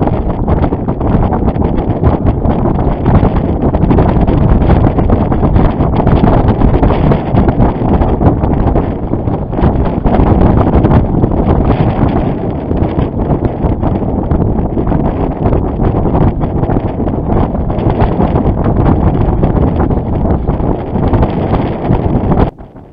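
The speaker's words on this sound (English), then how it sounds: "Couple of really good gusts right there." Steady, loud wind buffeting the microphone aboard a reefed sailboat, with broadband roar and occasional surging gusts, continuous for the whole stretch with no voices.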